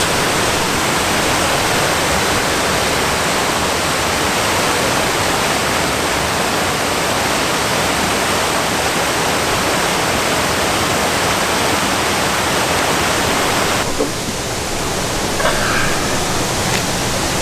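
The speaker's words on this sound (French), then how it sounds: "Ah mais c'est un pont en fait. Oui, il y a une toute petite cascade." A small waterfall tumbles beneath a bridge in the Cévennes, a continuous close rush of water that fills the whole stretch and only thins slightly toward the end.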